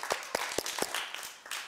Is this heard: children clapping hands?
yes